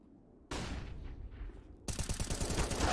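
Gunfire from the video game Counter-Strike: Global Offensive during a FaZe vs ENCE pro match, loud bursts of shots with a rapid rattling volley near the end, no talk over it.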